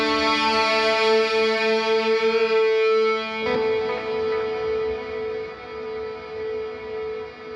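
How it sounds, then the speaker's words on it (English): Electric guitar through a green Big Muff reissue fuzz and a Line 6 Sweep Echo: a sustained, distorted chord rings with rich harmonics, then a new note strikes and decays into swirling, modulated echoes that bend and shimmer. "the Line 6 is using the Sweep Echo, which is one of my favorite echoes of all time"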